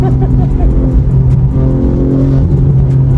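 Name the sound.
700HP BMW G80 car engine revving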